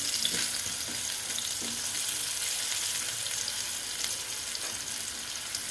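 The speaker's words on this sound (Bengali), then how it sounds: "এই জন্য আমি আলুটা আমি ভেজে নিচ্ছি ভালো মতন" Potatoes fry in a pan for an egg and capsicum masala, giving a steady close hiss of oil with a few scraping stirs, no voices over it.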